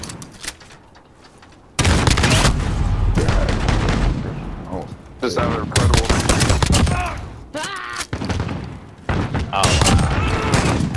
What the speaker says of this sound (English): I'm using the shotgun.